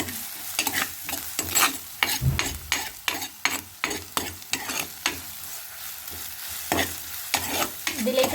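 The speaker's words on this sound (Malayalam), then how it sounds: "നന്നായി ഉള്ളി നല്ല ബ്രൗൺ കളറാവണം നന്നായി ഇളക്കി വാട്ടി കൊടുക്കാം" Onions being sautéed in a pan for a sardine fish curry, with a continuous sizzle broken by repeated rhythmic scraping strokes of a spatula, about two per second, close and clear.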